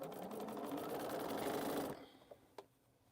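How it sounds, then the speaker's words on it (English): Sewing machine stitching the final border of a quilt, a fast, steady mechanical whir up close for about two seconds, then stopping, followed by a couple of faint clicks. "Let me stitch just another couple of inches so I can see."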